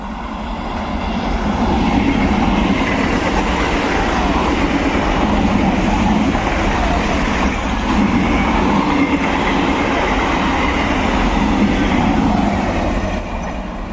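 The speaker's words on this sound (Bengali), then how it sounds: "লালগোলা রানাঘাট ইউমিউ প্যাসেঞ্জার একদম ঢুকছে মুর্শিদাবাদ রেল স্টেশন" A Lalgola–Ranaghat MEMU passenger train enters Murshidabad railway station with a loud, steady rumble and clatter of wheels on rails. The noise stays close and continuous throughout.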